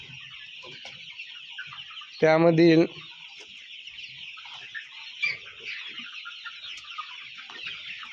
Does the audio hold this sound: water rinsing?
no